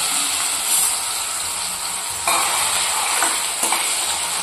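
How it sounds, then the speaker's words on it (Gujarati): Small-cut potatoes sautéing in hot oil in a home kitchen, a steady close sizzle and hiss with occasional stirring scrapes, loud and continuous without talk. "જે આ બટાકા આપણે નાની નાની સાઈઝમાં કાપ્યા છે તેને પણ તેલની અંદર નાખી સાંતળી લઈશું"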